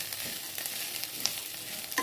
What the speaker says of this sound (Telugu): అటుకులు పోపేస్తున్నాను